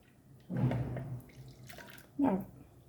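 Boiled and cooled water is poured into a washed mixer grinder jar in two short bursts, a splashing pour of about half a second and then a briefer one, close by in a quiet kitchen.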